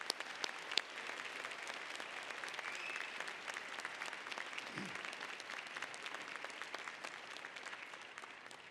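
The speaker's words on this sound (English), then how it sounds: "Graduates receiving the Education Specialist degree, please give them a round of applause." At a winter graduate commencement, the audience applauds graduates receiving the Education Specialist degree. The clapping is steady and moderately distant, spread across a large hall, with a few sharper individual claps standing out.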